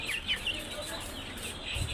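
Pahari hill-breed chickens in Chittagong cluck softly in the background, a low farmyard murmur with occasional higher calls, fairly faint.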